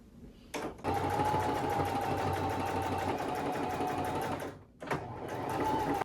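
A sewing machine stitches a dress seam during a thrifted-clothing alteration, running in a steady fast whir for several seconds, briefly stopping, then starting again close up.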